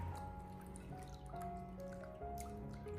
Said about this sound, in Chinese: 接着再往里面添加1碗清水，再继续的用手给它清洗一下